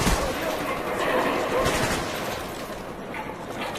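Gunfire in Call of Duty: Black Ops, a dense, continuous stretch of game shooting and battle noise that runs steadily through the whole moment with no clear breaks.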